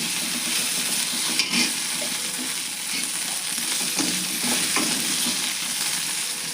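Tender okra frying in oil in an iron kadai, a continuous close sizzle with occasional stirring scrapes, steady and unbroken, no voices.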